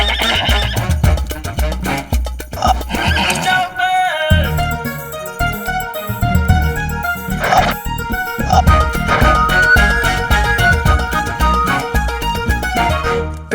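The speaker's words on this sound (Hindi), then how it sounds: "ये घोड़ा शरीफ लगता है।" A horse in an animated Hindi Aladdin series whinnies loudly in repeated bursts over busy, tonal background sound, with possible hoof clip-clop; no one speaks.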